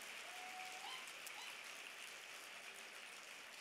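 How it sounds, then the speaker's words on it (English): Sustained applause from an audience at a youth leadership award ceremony, steady and broad across the whole moment with no voices standing out. "let's give them a big round of applause for all their work"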